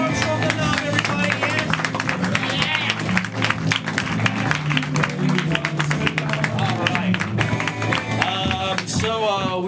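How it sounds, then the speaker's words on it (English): Audience clapping throughout at a live stage show, dense and continuous, mixed with crowd noise and music, with no single claps standing out. "Clap for them, show them love, everybody."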